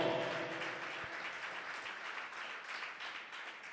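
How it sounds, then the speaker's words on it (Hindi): Distant applause from a church congregation giving thanks, a soft continuous wash of many hands clapping that fades slightly toward the end, with no voices over it. "हम जोर से ताली बजाए, उसकी शुक्र अदा करें।"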